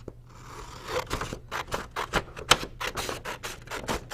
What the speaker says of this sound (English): Come in again with our scissors.